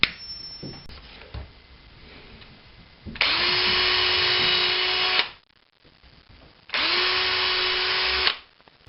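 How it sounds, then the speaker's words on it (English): A power drill bores pilot holes for wood screws in a wooden Kalamazoo amp cabinet, two sustained whining runs of about two seconds each, close and loud, separated by quiet handling noises. "drill down in here, and I can also do the inside work on this easier"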